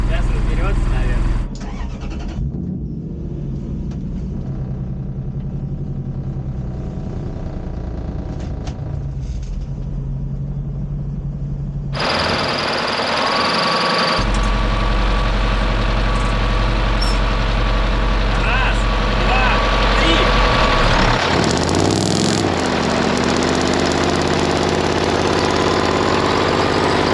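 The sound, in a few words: DT-75 crawler tractor engine running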